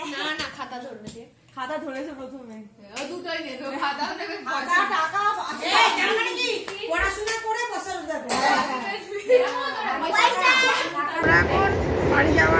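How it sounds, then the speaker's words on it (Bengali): Onboard a moving train headed home, a low rolling rumble sits under lively, close conversation and laughter from family members, including a child, with a louder broadband rush near the end. "আমরা ট্রেনে উঠেও গেছি আমরা এখন বাড়িতে যাচ্ছি"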